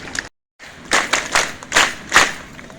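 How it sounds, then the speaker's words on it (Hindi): An audience at a community hall welcome ceremony claps for an arriving guest, a short burst of group clapping in several uneven swells after a brief silent gap, fairly close and loud. "आप सभी एक बार ताली बजा के दीदी का स्वागत करिएगा"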